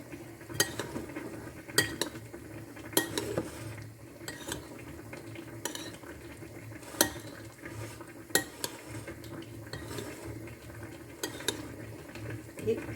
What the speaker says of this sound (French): Et on mélange délicatement, bien sûr, pour éviter de casser les carottes.